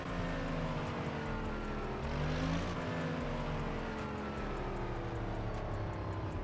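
A modded Bentley Bacalar engine in Test Drive Unlimited 2 drones and rises and falls through off-throttle revs, a steady mechanical roar with no talking.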